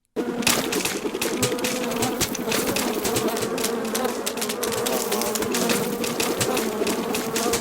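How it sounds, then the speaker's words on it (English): A dense, loud buzzing of many bees in Metal Gear Solid Delta fills the whole clip, a constant droning swarm with rapid clicking textures. "You want to see how this guy handles a horde of bees?"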